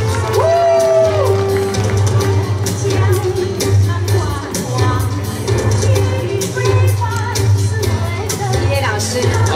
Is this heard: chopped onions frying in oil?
no